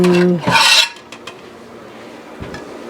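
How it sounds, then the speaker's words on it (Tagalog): Food set onto a plate while cooking: a brief bright clatter of dish and utensil against the plate, then a few quiet clicks and scrapes close by. "Wait lang at ilalagay ko siya sa plate para madaling"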